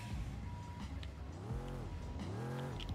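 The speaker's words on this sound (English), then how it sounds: "So now let's hear the startup." A 1969 Corvette Stingray in the Roblox game Drive World starting up, engine tones rising and settling twice in quick revving sweeps over a steady idle rumble, close and alone.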